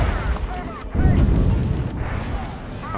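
Artillery fire in the PC tank game Gunner HEAT: a heavy, loud boom rolls in about a second in and rumbles on, over steady engine noise and busy battle sounds.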